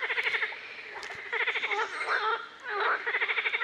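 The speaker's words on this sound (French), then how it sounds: "Est-ce que tu as entendu ce qu'a dit la grenouille?" A frog croaks in rapid pulsing trains, several bursts of ratcheting calls spaced across a few seconds, fairly clear and close against a quiet background.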